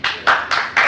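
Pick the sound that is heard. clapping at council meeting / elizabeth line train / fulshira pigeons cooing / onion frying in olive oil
clapping at council meeting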